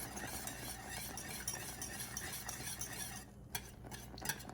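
Whisk stirs cornstarch into a bubbling strawberry fruit sauce in a pan, a quiet continuous scraping and gentle sizzle with a few sharp metallic taps near the end.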